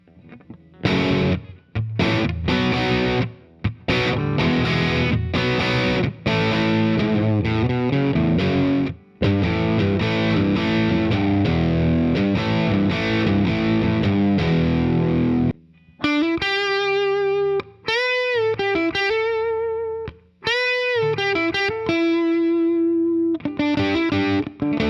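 A budget electric guitar is played through heavy distortion, first as loud crunchy strummed chords, then as sustained ringing single notes and bends toward the end.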